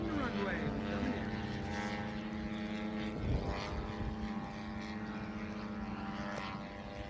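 A Hangar 9 Corsair RC model airplane coming in to land, its propeller engine a steady, close buzzing drone that holds throughout with slight swells.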